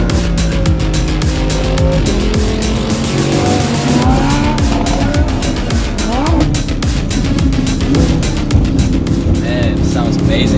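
An Italian supercar is driven hard on a race track, its engine loud and close and rising and falling through the gears, with tire squeal and a voice talking over it.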